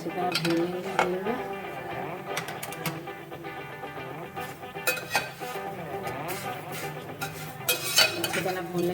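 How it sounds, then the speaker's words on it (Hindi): Utensil scraping and clinking against a pan while vermicelli is stirred and roasted in ghee, with a faint sizzle underneath, steady and close throughout. "सेवियां अच्छी तरह भूनेंगे घी में।"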